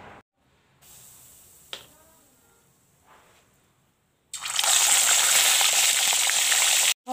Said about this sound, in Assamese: এয়া নিমখ হালধি দি মাছখিনি ফ্ৰাই কৰি লওঁ।